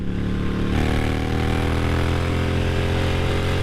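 Harley-Davidson XL1200CX Roadster with a Screamin Eagle setup, its engine rumbling loud and close with a steady low throb that swells slightly as it revs, and no talking over it.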